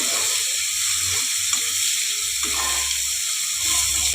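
Chopped onions and green chillies with black cumin fry in oil in a pan for a pomfret mustard-poppy curry, giving a steady loud sizzle with a few soft stirring bumps and no talk.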